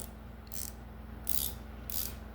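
An extra-long DURATECH anti-slip flex-head ratcheting wrench being worked back and forth, producing three brief, bright ratchet buzzes at an even pace over a faint hum, close up with no speech.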